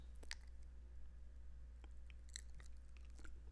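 Someone crunches and chews a hard Greenies dog treat, with irregular close bites and clicks over a low steady hum, no talking.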